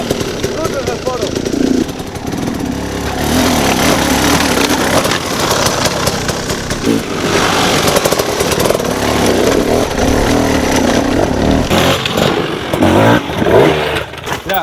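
A hard enduro motorcycle runs nearby with uneven throttle blips and clutch-controlled surges, its engine buzzing and revving continuously while someone talks over it.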